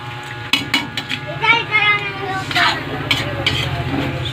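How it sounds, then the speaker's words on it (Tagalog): Chicken cubes sizzle steadily as they are sautéed with seasoning in a pan. A spoon occasionally clinks against the pan while a person talks over the frying throughout. "So gisa lang natin ng mabuti para mawala yung lansa at papalitan ng bango."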